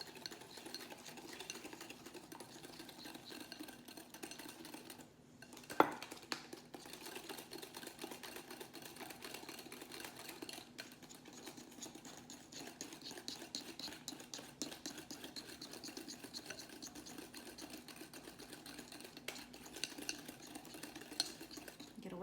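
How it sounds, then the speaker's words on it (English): Room-temperature eggs whisked by hand for brownie batter, a steady rapid clicking and scraping of a whisk against a bowl that continues evenly at close range with no talking. "You have 2 room temperature eggs, and you want to whisk these in until it's very, very like sort of white in color."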